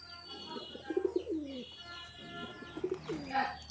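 A female pigeon coos close by in two soft, rolling bursts separated by a pause, with faint chirps in the background and no talking.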